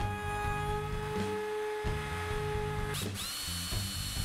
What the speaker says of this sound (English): Here I'll do some drilling,